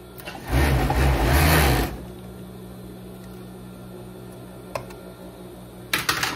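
A straight-stitch sewing machine closing the shoulder seam of a loose viscose-lycra dress runs in one loud, close, whirring burst of about a second and a half, then stops, leaving quiet room tone and a couple of faint handling clicks.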